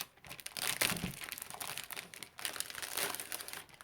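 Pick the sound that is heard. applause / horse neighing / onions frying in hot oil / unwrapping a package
unwrapping a package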